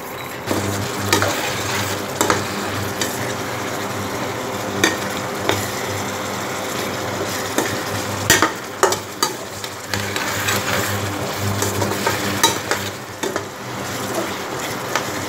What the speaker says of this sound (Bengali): টক দিয়ে দিয়ে পুরোটা একটু কষানো হয়ে গেছে